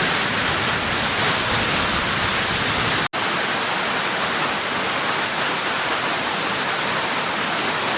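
Achankallu waterfall roars as a loud, steady broadband rush of pouring water heard up close from beside the falls, unbroken apart from a momentary dropout.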